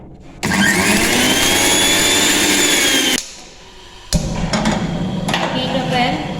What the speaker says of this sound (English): we blend the ingredients in a blender.